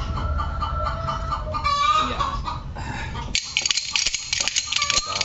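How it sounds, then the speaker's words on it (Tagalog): Chickens cluck and squawk nearby at a rural home, loud and irregular, with a person speaking over the birds in the first part. "Pasensya na kayo na maingay ang mga manok."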